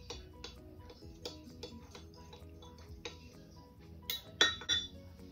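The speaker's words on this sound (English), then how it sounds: "And give it a quick stir." A spoon stirring distilled white vinegar into milk in a glass to make buttermilk, light clinks and taps against the container, quiet and close, with a few sharper chimes near the end.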